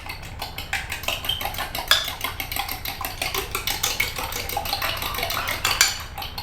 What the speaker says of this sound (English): I'm not going to use a fancy whisk, I'm just going to scramble these with a fork.